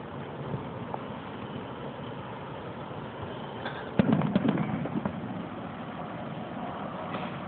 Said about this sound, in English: It's picking up the fireworks pretty well.